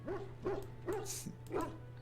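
A dog in Dragon Age Origins gives four short, clear barks in an even rhythm, fairly close, over a low steady hum.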